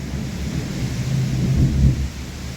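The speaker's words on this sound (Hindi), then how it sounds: "इतना तूफान आ रहा है यहाँ, इंसान उड़ जाएगा।" A heavy storm with rain and thunder, a dense wash of rain noise under a deep rolling rumble that swells and fades across a few seconds, loud and close, with no voices.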